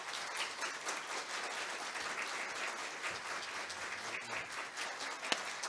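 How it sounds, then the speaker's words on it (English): A distant, fairly quiet audience applause at an award ceremony for a university prize winner, a dense continuous wash of clapping held steady for several seconds. "And can we give a round of applause?"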